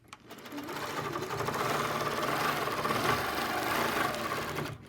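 A sewing machine stitches the seams of a wavy quilt border with piano-key strips, running steadily and close for nearly the whole stretch with no pauses.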